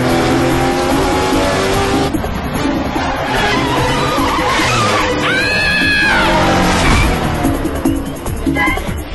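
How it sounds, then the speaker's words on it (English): The Mach 6 race car tears through a cartoon chase, its engine roaring loudly and continuously with sharp tire squeals and skids layered over the whirring motor. "That kid Ronald is chasing Speed and Connor in the Mach 6."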